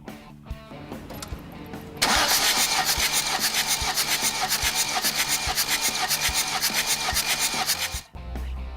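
A diesel engine cranks over on the starter with the fuel pump fuse pulled during a compression test through the glow plug holes, a loud steady rhythmic churning that runs for several seconds after a brief lead-in, then cuts off.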